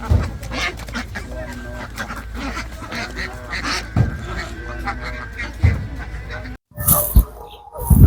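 Many ducks on a Bangladesh duck farm quack steadily and loudly, close by, as the laying ducks are loaded into a vehicle, with a brief pause before more honking calls and a voice or two mixed in.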